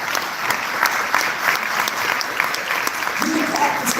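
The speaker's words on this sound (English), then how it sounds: "You can clap and stand for that." Audience applause fills a live gathering honoring a family man and his family, a dense, steady patter of many hands close by, with voices mixed in beneath it.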